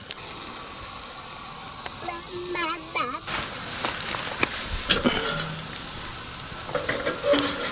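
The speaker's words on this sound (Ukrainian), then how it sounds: "дивитися, як смажиться м'ясо" Steady sizzling and crackling of lamb saddle shashlik cooking on an outdoor grill, with scattered clicks and light scraping sounds over the hiss, no talking.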